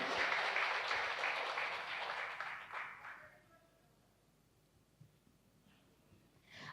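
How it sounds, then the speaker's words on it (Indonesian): An audience at a political party's regional inauguration ceremony in West Papua claps in a dense, steady round of applause that fades out after about three seconds, leaving quiet room tone. "Mari tepuk tangan sekali lagi untuk kita orang semua."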